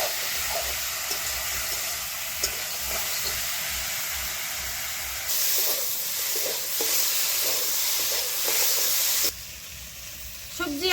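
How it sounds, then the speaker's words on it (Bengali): Ginger, cumin and green chili paste frying in a pan, a loud continuous hiss and sizzle that swells partway through and drops suddenly near the end, with faint voices underneath. "এখন দিয়ে দিব মশলা আদা বাটা জিরে বাটা আর কাঁচা লঙ্কা বাটা একসঙ্গে দিয়ে ভেজে নিব"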